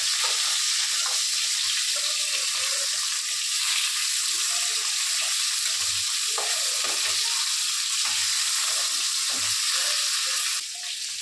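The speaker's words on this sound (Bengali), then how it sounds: "এবার মাছটা ভেজে নেব।" Silver carp pieces fry in hot oil in a home kitchen, a continuous loud sizzle with crackling bursts and occasional stirring throughout, without talk.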